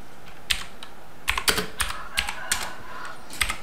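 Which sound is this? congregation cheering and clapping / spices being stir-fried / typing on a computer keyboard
typing on a computer keyboard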